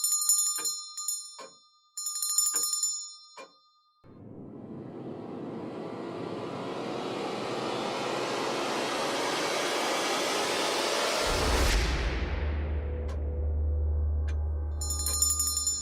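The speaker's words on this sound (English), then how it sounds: "That damn bell." A small bell rings in quick bursts, then a loud steady whooshing roar fills most of the clip before the tinkling bell returns at the end.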